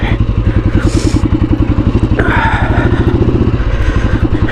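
A heavy motorcycle rides a muddy, rain-soaked road, its engine pounding in a loud, steady rapid thump close by, with brief clatter and splashy scrapes riding over the beat.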